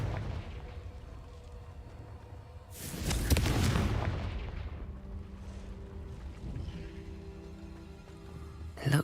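A fiery Confringo spell blast from a wizarding video game set in a cave bursts out loudly, a roaring boom that rumbles and fades over a few seconds into low ambient hum, with a faint thump at the very end.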